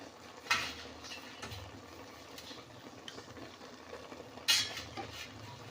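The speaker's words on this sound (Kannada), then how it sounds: "ಬೆಳ್ಳುಳ್ಳಿ ಹಾಕ್ತೀನಿ." Garlic being added to a pot of North Karnataka pundi palya curry: faint utensil clinks and scraping against the pot, with two sharper metallic knocks standing out over a quiet low simmer.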